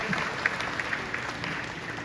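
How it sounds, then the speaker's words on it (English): A church congregation gives a clap offering of praise, moderate steady applause with a few sharper claps near the start. "Give God a clap offering of praise"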